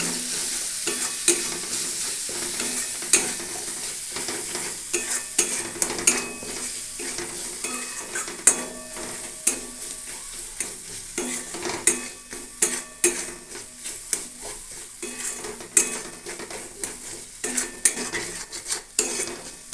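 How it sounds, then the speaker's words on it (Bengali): Green jackfruit with spices and a spoonful of sugar stir-fried in a pan in a village-style home kitchen: a continuous sizzle broken by repeated scraping and clinking of a spoon against the pan, close and steady, with no talking. "এগুলোকে খুব ভালোভাবে আমি কষিয়ে নেবো"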